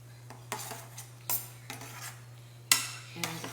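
A utensil stirs cheese into food in a dish, giving quiet, irregular scrapes and soft clinks spread across a few seconds.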